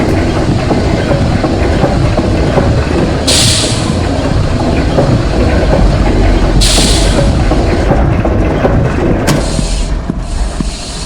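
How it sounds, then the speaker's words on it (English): A steam engine train in the Lorelai video game rumbles loud and continuous with rattling mechanical clatter, punctuated by several bursts of hissing steam. "It's some kind of steam engine."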